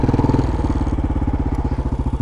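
A Honda TRX 250X ATV engine runs in reverse gear with a steady, close, pulsing putter and rapid even firing beats, loud and uninterrupted by talk.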